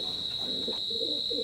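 A pair of semi-adult teddy pigeons coo softly in low, rolling bursts, close by, with a steady high electrical whine running underneath throughout.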